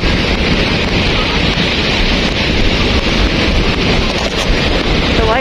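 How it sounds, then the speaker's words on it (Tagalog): Strong waves on Boracay beach, a constant roar of surf mixed with heavy wind buffeting the microphone, loud and unbroken with no clear individual breakers. "grabe ang lakas ng alon."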